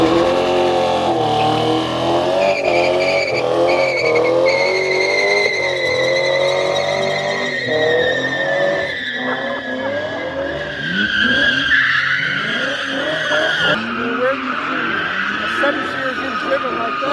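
A 340,000-mile BMW E39 M5 with a Dinan Stage 2 setup drives off with a loud, raspy exhaust. The engine revs rise and fall continuously, close and dominant for the whole stretch.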